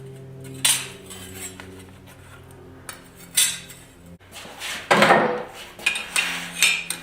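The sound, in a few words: hammering chisel marks into hot forged steel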